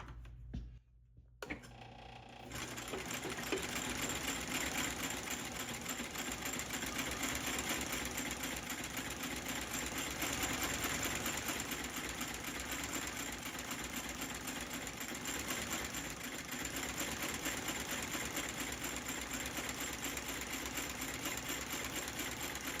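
A stitching machine sews a leather half sole onto a wedge-soled boot, starting after a couple of seconds of low hum and then running as a loud, continuous mechanical chatter for the rest of the clip.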